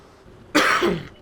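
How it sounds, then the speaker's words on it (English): A single harsh cough, loud and close, bursts out after a quiet lead-in and trails off within about half a second, with no talk over it. "Apologies for the cough."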